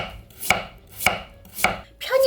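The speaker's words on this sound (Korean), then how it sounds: "이제 곱게 채 썰 거예요." A knife julienning a peeled potato on a cutting board: three crisp, evenly spaced chops about half a second apart, then a busier burst of cuts, close and clear with no talking.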